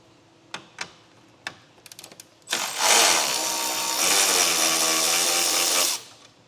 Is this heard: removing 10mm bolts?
yes